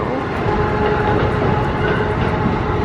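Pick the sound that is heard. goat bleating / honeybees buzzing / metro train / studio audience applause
metro train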